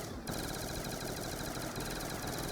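Sledgehammer gun in Black Ops 2 Zombies fires a sustained rapid-fire burst, a dense unbroken rattle of shots after a brief pause at the start, loud and continuous.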